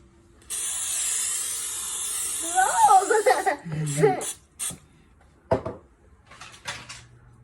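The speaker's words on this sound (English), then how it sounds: "the first thing we're going to do is spray this" A long, steady hiss of cooking spray onto a pan, followed by light laughter, a voice and a few clunks and clatters nearby.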